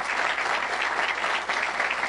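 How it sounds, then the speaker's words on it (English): An audience gives a steady round of applause at a Hollywood game event. Dense, even clapping holds at moderate loudness for about two seconds, with no voices over it. "So a huge round of applause for these folks one more time."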